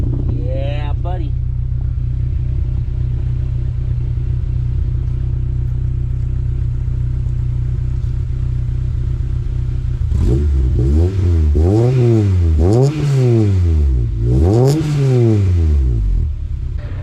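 K24A2-swapped Honda CRX with a Magnaflow 12259 muffler idles with a loud steady drone, then revs sharply several times in rising and falling sweeps.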